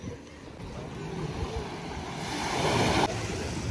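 Sea waves wash onto a beach in Ravda, Bulgaria, under a light breeze, a steady surf hiss that slowly swells louder, with faint wind buffeting on the microphone.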